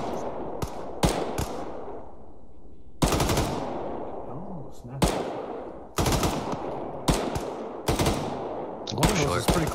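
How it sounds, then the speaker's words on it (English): M4 rifle hip-fired in the Arma 3 video game, with repeated loud bursts and single shots echoing across a long range at irregular intervals, while voices talk quietly underneath. "You're wasting your time with M4s at that range. No, I'm hip firing."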